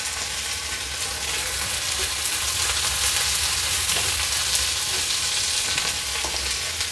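Tomato and green chili tossed into onions already frying to a reddish brown, giving a steady, loud, close sizzle that runs unbroken with a faint stirring texture and no talking.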